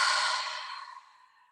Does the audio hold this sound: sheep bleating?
no